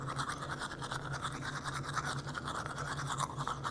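A toothbrush brushes teeth with a steady, faint scrubbing buzz that continues without a break, close up and with no talking.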